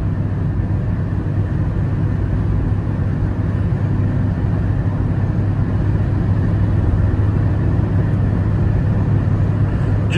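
Steady, loud drone of a 2024 Peugeot 208 Style 1.0 cruising at 130 km/h under 4,000 rpm, heard from inside the cabin as a constant low engine and road rumble with no talk.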